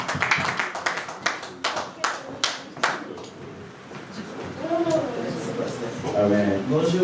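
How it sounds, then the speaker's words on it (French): A church congregation claps in a burst of sharp, separate claps for a few seconds, then the clapping fades as voices talk over the room. "nous acclamons pour la gloire de Dieu."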